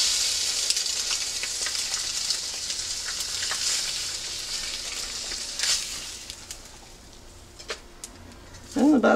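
A flipped egg sizzles in a cast iron pan, a steady bright hiss of frying oil with small pops and crackles, fading slightly before a brief clatter near the end.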